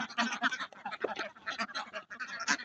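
Domestic laying ducks quack in a busy, overlapping chorus close by, rapid nasal calls tumbling one after another with short gaps.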